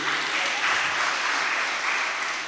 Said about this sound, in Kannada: ಬೋರ್ ಆಗದಿದ್ದರೆ ಒಮ್ಮೆ ಕೈ ಚಪ್ಪಾಳೆ ನಮಗೆ ಬೇಕು